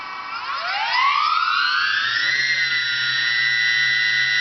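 An engine being revved during an XK Detect X380 vibration check on modified engine mounts: a rising whine that climbs over about two seconds, then holds steady and loud, with a low hum underneath.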